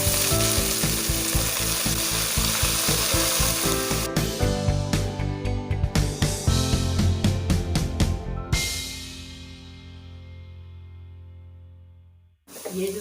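Sarson ka saag stirred and bhuna in a handi, with a dense crackling sizzle and scraping stirs throughout, a few sharp clinks, the frying fading after about eight seconds before a brief burst returns at the end.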